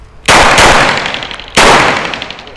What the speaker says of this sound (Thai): ยิงทดสอบแรงกันมินิเดซเซอร์อีเกิลนะฮะ ทั้งสองระบบเลยนะครับ เดี๋ยวยิง ระบบออโต้ธรรมดาก่อนนะฮะ